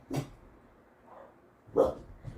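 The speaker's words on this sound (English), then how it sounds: "Dog's chasing away a raccoon probably" A dog chasing a raccoon at night barks from a distance, with two sharp, fairly loud barks and a softer yelp in between, separated by quiet pauses.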